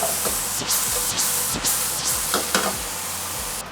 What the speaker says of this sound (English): now with the last bit of the frying pan, we're going to heat this up